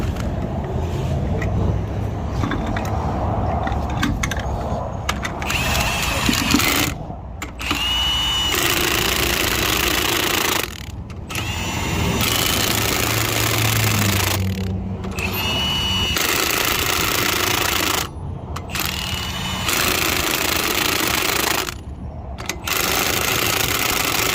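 A cordless impact wrench set to a low torque setting hammers lug nuts tight on a Ford Transit spare-tire mount, loud rattling bursts of several seconds each separated by short pauses, repeated about five times.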